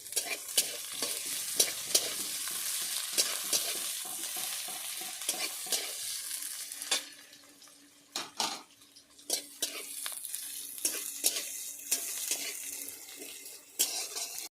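Onions and green chillies fry in a pan and are stirred repeatedly. Close, rhythmic scraping and clinks of the spatula sound over a continuous sizzle, which briefly drops away midway before resuming. Nobody talks.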